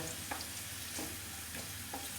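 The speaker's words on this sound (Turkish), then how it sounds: "soğanımı attım. Bu güzelce kızarıncaya kadar kavrulacak arkadaşlar." Chopped onions fry in a pan with a steady sizzle, and a few soft stirring clicks land at intervals. No one talks.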